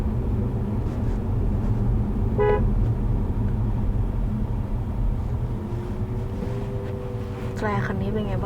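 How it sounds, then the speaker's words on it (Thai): A BYD Seal electric car gives a brief horn toot during a drive up a steep mountain road, a short bright blast over steady road and cabin noise, then people talk. "แตรคันนี้เป็นไงบ้างกดยากไหม"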